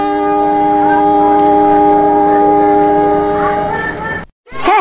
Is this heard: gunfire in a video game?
no